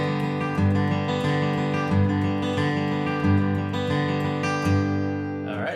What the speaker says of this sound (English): this one uses a cross-pick motion throughout the entire measure